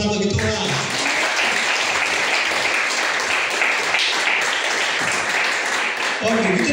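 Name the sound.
congregation applause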